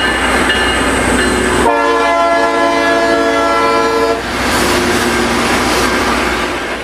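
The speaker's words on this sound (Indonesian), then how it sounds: "Ini kereta api lokomotif teman-teman." A toy train locomotive gives a steady rumbling run broken by a loud sustained horn blast in the middle, playing up close and loud with no speech.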